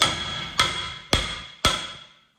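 A brake rotor on a Ford Transit rear axle is struck four times to seat it, each a sharp metallic clang with a ringing decay, spaced about half a second apart.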